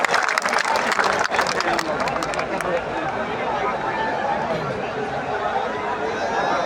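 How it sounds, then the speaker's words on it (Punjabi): Enthusiastic audience applause at a live performance, dense clapping and crowd noise that starts strong and gradually thins into a softer, sustained murmur. "ਇੱਕ ਵਾਰੀ ਤਾੜੀਆਂ ਮਾਰ ਦਿਓ"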